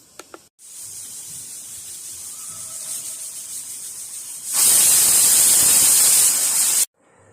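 A pressure cooker with tomato, onion, garlic and potato inside lets out a loud, sustained hiss of escaping steam with a high whistling edge, after a quieter stretch of soft rushing, then stops abruptly.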